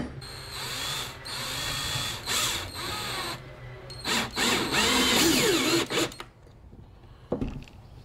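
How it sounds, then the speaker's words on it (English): Power drill boring a hole in a lid for a DIY carpenter bee trap, close and loud, with several whirring bursts of varying length separated by short pauses, then a brief clatter at the end. "you're gonna have to drill a hole in that lid"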